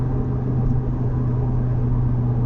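Steady deep exhaust drone from a 400HP Audi RS3 with sport exhaust, idling or cruising close by, with a continuous low rumble and no voices.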